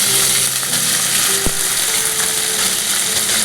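Garlic and onions sizzle and fry in a hot pan, a steady dense crackle with a few light clinks of a utensil, close and continuous with no talking.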